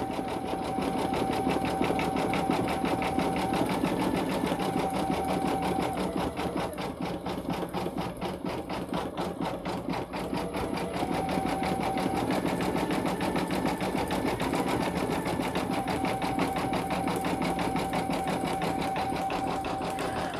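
An embroidery sewing machine stitches satin-stitch designs on a hooded towel, a steady rapid mechanical chatter with a faint whine that pauses briefly and resumes, running alone without speech for the whole stretch.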